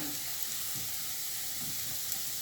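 Carrots and onion fry steadily in a pan for a soup, a soft continuous sizzle with a few faint scraping stirs close by and no voices.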